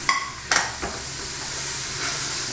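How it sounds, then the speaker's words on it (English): Rice with mint and coriander leaves stirred in a pan while frying, a short close sizzle with a couple of sharp utensil scrapes at the start, then a steady hiss, no talk. "the mint leaves, the coriander leaves, and give it a nice mix."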